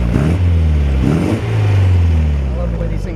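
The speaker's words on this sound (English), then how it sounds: "Got a great sounding engine." A 1971 MGB GT engine revving with the bonnet open, loud and close, rising and falling through a few blips of the throttle over a steady idle rumble, with a voice briefly audible alongside.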